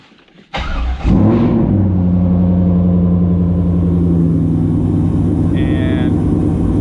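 A supercharged Corvette V8 with a misfire cranks, catches and settles into a loud, steady idle heard up close after a brief quiet start, with a short high electronic beep near the end.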